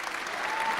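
A brief wash of dense applause at the announcements of a 2013 international violin competition finals, steady clapping from a large audience with no gaps.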